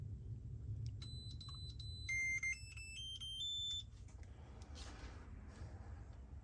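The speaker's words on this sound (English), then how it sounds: "After you hear two beeps, okay, please restart for final completion." A rapid series of faint electronic beeps from an ISDT ESC70 speed controller on an RC crawler climbs in pitch step by step, followed by a couple of longer tones over a low background rumble.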